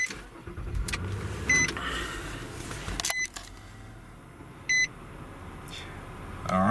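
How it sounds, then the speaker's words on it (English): A 2015+ Nissan Murano is started by push button with a key fob whose battery is dead: brief starter bursts and clunks alongside several short electronic beeps, close by in a quiet cabin. "push and start."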